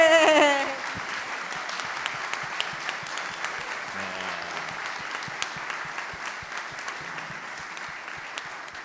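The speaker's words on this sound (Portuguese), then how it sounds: "eu pediria uma salva de palmas a todos eles" Applause at a public event on sustainability commitments, a dense wash of clapping filling the room and holding steady throughout. A cheer and a brief voice show near the start and a faint voice partway through.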